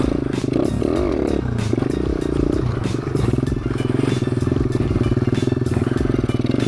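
A Thumpstar 140cc dirt bike engine roars loud and close during wheelie practice on bumpy ground, revving with a raspy, pulsing drone and rattling clatter that rises and dips as the throttle changes.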